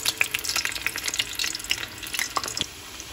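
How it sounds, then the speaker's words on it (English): Slices of breadfruit and plantain fry in hot oil, giving a soft, steady crackle and sizzle with scattered sharp pops. The sound is close and fairly quiet, with no talking. "fry up some plantain, fry the rest of the breadfruit, and then ready to serve. In goes the first one."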